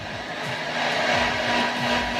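A hair dryer blows on eyeglasses coated with toothpaste: a continuous, fairly loud airy whoosh with a steady motor hum underneath, unbroken throughout, with no talking.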